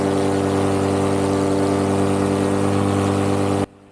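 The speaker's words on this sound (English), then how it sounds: "The Moster 185 that's on my paramotor uses a belt drive to slow down the engine RPMs" A Moster 185 paramotor engine with belt drive runs at a loud, steady idle, its even mechanical drone holding for several seconds before cutting off abruptly into silence.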